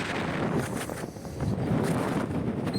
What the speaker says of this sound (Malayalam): അയ്യോ കാറ്റ് ഏ കാറ്റ് വിഷയം കേട്ടോ